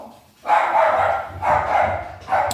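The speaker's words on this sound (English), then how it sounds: "my dog is going crazy right now" A dog barks in three loud, close bursts, each sustained for about a second, with a short quiet gap after the first.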